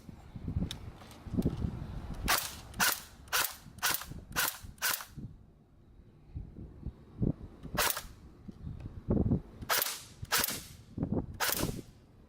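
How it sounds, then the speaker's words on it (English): Single shots from a full-metal Matrix CM050A AK47 electric blowback airsoft rifle on semi-auto, sharp clanking cracks in an irregular series with short pauses, close by. "go straight to full auto, and pay attention to the clanking sound"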